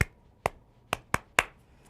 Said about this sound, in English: I might just sort of start by clapping the rhythm for them